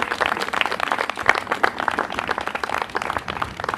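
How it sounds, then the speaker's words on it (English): A church congregation at a Sunday gathering breaks into a big round of applause: dense, steady clapping from many hands fills the space without pause, fairly loud and with no talk over it. "can we give them a big round of applause?"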